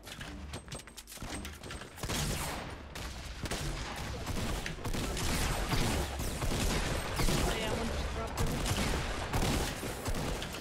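Dense, continuous gunfire from a Fortnite Battle Royale match, with rapid bursts and sharp shots packed together over loud game noise, while players talk over the action.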